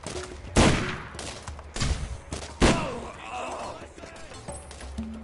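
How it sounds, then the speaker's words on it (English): Rifle gunfire in the shooter game Borderlands, played as Mordecai: three loud, sharp shots spaced about a second apart, each with a short decaying tail, over a low game-ambience bed. "Another notch in my rifle. Keep shooting!"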